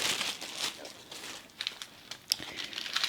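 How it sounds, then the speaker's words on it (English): Tissue paper crinkling and rustling up close as it is crumpled and pulled out of an opened bead subscription box, with irregular crackly bursts and a few sharper crunches, no talking. "Just get rid of this noisy tissue paper."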